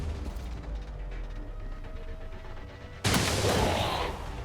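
Pistol gunfire in the XCOM 2 video game, in a rapid run of shots with a busy game backdrop before a sudden loud, sharp burst that rings out.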